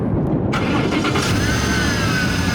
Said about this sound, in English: You wanna hear supercharger?